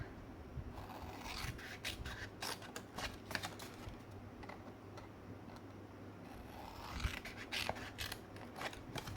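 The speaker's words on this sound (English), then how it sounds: "now cut these lines just in the middle between the walls of our box." Scissors snip through the lines of a paper box, a quiet series of short crisp cuts and rustles that come in bursts with brief pauses between.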